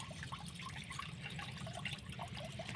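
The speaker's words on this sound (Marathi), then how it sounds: "आता नळासोबत खेळत आहे आणि ते पाण्यात जात येतो" A running tap trickles and splashes softly and steadily while a child plays with the flowing water, quiet and close, with no one talking.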